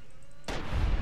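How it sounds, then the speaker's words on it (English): A single loud gunshot in Fallout: New Vegas comes after a short quiet stretch, a sharp close crack followed by a heavy booming tail. "I shot his head off."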